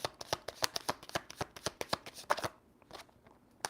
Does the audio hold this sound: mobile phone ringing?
no